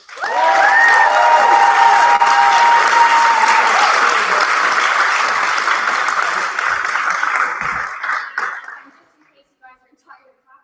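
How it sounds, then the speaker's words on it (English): Full audience applause at a debate, loud and dense from the start, with some cheering and whistles in the first seconds, holding steady before tapering off after about eight seconds. "Give another round of applause for our four fantastic maiden speakers that we have this evening."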